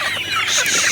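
An Aseel rooster clucks up close, loud and continuous, without a break.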